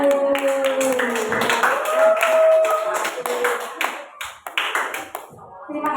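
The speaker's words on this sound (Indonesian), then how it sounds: "Baik, tepuk tangan dulu." Children clap hands in a classroom, a scattered, uneven burst of taps that rises and then thins out toward the end, with children's voices and a sustained tone heard through it.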